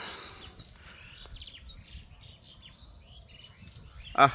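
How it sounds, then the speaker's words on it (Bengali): Birds call and chirp around a dragon fruit garden, brief bright tweets scattered over a steady hum of insects, fairly faint, ending in a short louder chirp. "আশেপাশে আমার পাখির ডাক।"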